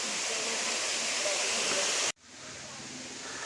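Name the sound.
Ayyappanovu waterfall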